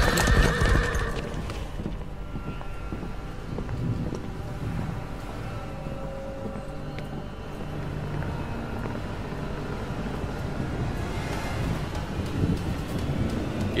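Horses in the fighting video game Mortal Kombat XL whinny loudly at the start, then hooves clip-clop steadily through a long ride with faint wind noise underneath.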